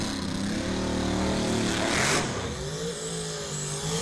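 A drag racing truck and race cars rev on a drag strip, a loud engine drone with rising and falling pitch and a burst of broadband roar midway, heard at moderate distance with no talk.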